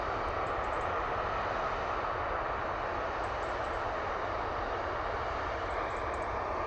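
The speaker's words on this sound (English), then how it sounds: "Ryanair off to Krakow" A Ryanair airliner departing Manchester Airport for Krakow gives a steady, distant engine roar, even and unbroken throughout, with no talk over it.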